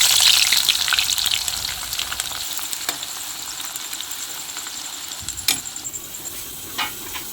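Onions fry in oil for Hyderabad dum chicken biryani, a steady close sizzle that starts strong and eases slightly, broken by a few sharp spatters and utensil taps.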